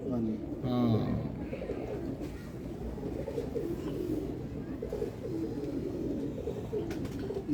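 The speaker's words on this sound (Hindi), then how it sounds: "बड़ा शानदार कबूतर है" Soft pigeon cooing close by, mixed with a steady murmur of background chatter and ambient noise.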